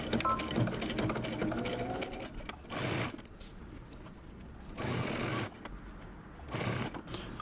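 A sewing machine stitches a shirt undercollar to the back with a 5/8 inch seam allowance, running in several short close bursts of rapid whirring separated by quiet pauses, with no talking.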